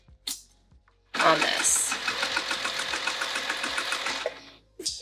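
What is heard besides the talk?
sewing machine stitching a luggage sleeve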